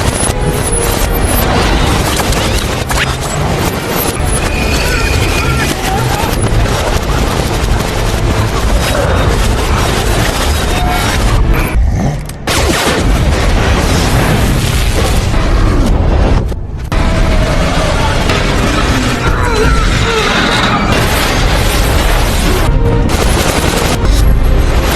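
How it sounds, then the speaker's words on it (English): Dense gunfire and booms from a Hulk movie fight scene, loud and continuous, with rapid bursts like machine-gun fusillades and heavy impacts across the whole stretch, broken only by two brief drops. "Emil tells Ross that he saw something unusual before shooting at Banner."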